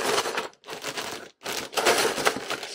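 A plastic bag of LEGO parts is shaken inside a packing envelope in three bursts of rattling, crinkling clatter, close and loud, separated by brief silences.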